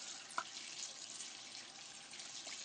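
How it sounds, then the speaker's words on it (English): Hot water runs from a tap while hands are washed after handling raw meat, a faint, steady hiss of flowing water with a brief splash near the start and no speech. "wash my hands, hot water after handling raw meat."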